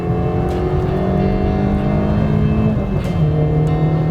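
A Peugeot 106 Rallye 1.3 engine revs loudly from inside the car, a sustained rising drone that climbs slowly through the revs with a brief dip near the end.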